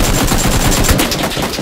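Rapid bursts of AK rifle fire in PUBG, played on Xbox One X, a loud, dense string of automatic shots running through the whole moment with no talk.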